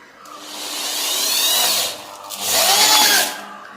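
An Ibell ED06-91 electric drill drives a screw in two close bursts, the motor whining up, dropping off briefly, then spinning again, loud and near with no talk.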